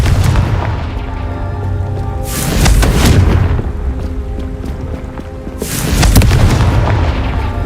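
Blasting curse explosions from Confringo spells: two loud, deep booming blasts a few seconds apart, each with a heavy low rumble and crackling burst that swells and slowly fades, with no talking over them.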